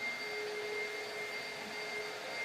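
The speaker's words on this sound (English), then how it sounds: "this is her first time being around a vacuum cleaner" A vacuum cleaner runs steadily nearby with a constant high whine and airy hiss, moderately quiet and uninterrupted, with no one talking.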